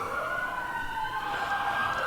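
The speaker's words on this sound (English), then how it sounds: "Damn sirens." Emergency sirens wail continuously at a distance, their steady tones holding over a dull background hum with no talking.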